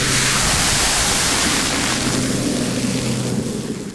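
Coffee thrown onto a burning deep fryer flash-boils into a loud, roaring whoosh of hissing steam and flame that fills the whole moment, then tapers slightly toward the end.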